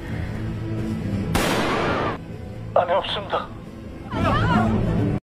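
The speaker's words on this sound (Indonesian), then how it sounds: "terdengar suara tembakan" Two sharp gunshots ring out amid a tense scene in a Korean heist drama, with a brief exclamation of voices between them.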